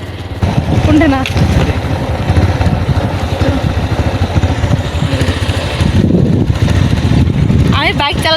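A motorcycle ridden near a border area, its engine droning loud and steady close by throughout, with wind rush and brief voices in the background.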